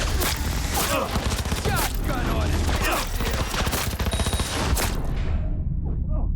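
Dense, loud video-game gunfire in Cyberpunk 2077, with rapid automatic bursts and booming shots that fill the fight almost without pause before cutting off near the end, a voice speaking over part of it.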